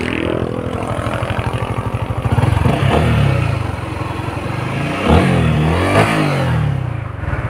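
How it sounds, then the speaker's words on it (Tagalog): A Honda Winner X motorcycle engine revs repeatedly while hot, rising and falling in pitch with throttle blips over a steady close idle. "ipaparinig ko sa iyo yung tunog ni Winner X"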